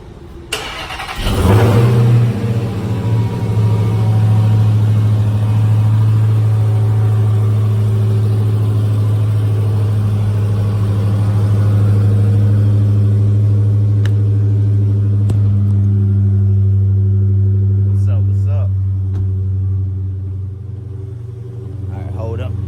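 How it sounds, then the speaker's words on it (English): A Dodge Challenger Hellcat fires up from a cold start with a sharp burst, then settles into a loud, steady, deep idle rumble that holds close by throughout, easing slightly near the end. "Let's give it a cold start."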